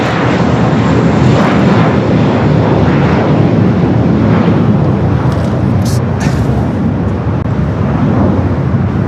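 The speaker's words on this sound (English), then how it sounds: "Flight coming in from Cabo on the 737-800." Steady loud roar of an Alaska Airlines Boeing 737-800 landing at LAX, engine and airframe noise filling the whole stretch without a break, with a brief faint whine near the end.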